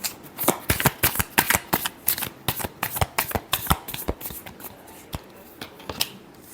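Tarot cards riffle-shuffled by hand in a rapid run of crisp, papery flicks and slaps, close and fairly loud, with short gaps between bursts and no talking.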